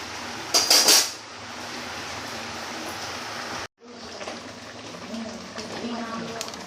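A metal lid goes onto a cooking pot of potato, pointed gourd and prawn curry. A brief clattering knock rings out near the start, then a steady low bubbling hiss continues, cutting out for a moment midway.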